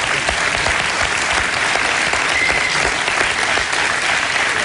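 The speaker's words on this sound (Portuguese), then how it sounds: "Palmas também para a Marisa também" Steady, loud applause from a studio audience on a Portuguese television celebrity impression show, a dense wash of clapping hands that continues evenly throughout.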